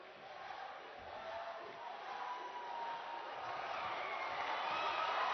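Team members at an ABU Robocon 2022 India robotics match cheer in a dense, sustained crowd roar that swells slightly toward the end, with no clear pauses.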